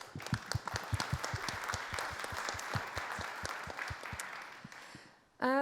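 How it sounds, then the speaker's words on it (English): An audience at a conference panel session claps steadily for several seconds, the applause thinning out toward the end before a voice starts speaking. "Warm round of applause for Giulia, please."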